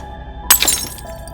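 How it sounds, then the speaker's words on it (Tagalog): A glass bottle is dropped and shatters on the ground: one sharp, loud crash followed by a brief tinkle of scattering shards, up close and alone after a moment of near-silence. "mabitiwan niya ang dala niyang bote at nabasag ito sa lupa"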